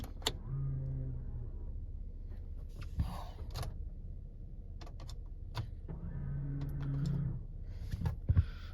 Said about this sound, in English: Electronic brake.